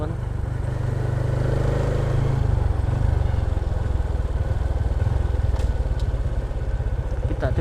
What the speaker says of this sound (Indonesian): Kita coba dengarkan suara stasioner ketika mesin panas